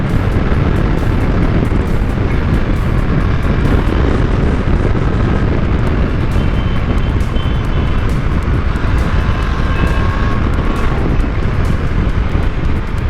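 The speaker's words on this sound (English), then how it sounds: "Look at the plane landing." A plane coming in to land passes overhead, its steady, loud roar heard as broadband rumble mixed with heavy wind buffeting from riding a motorbike, with no talking.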